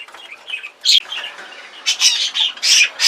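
Caged budgerigars let out loud, harsh squawks and chirps in repeated bursts, with brief flutters of wings between the calls.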